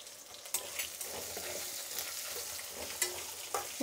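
Onion, green chili and curry leaves fry in a pan with a steady, soft sizzle, stirred with a few scraping strokes along the way, and no voices.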